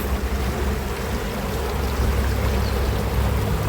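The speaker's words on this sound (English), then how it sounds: "There's a huge river here, as you can see." The Rwaka River in Nairobi, Kenya, flowing with a steady, dense rush of water that stays loud and even throughout, with no voices.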